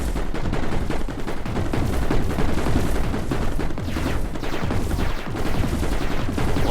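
Turrets in the Mindustry video game fire continuously in a dense, loud barrage of overlapping gunshot-like bursts with no pauses.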